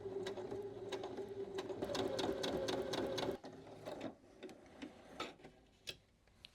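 Sewing machine stitching Halloween quilt pieces with a quarter-inch seam, a steady close rapid rattle of the needle for about three seconds, then short stop-start bursts of stitching with pauses between.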